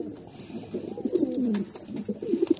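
Close, soft cooing of fancy pigeons, several low throaty calls rolling one after another in a quiet space.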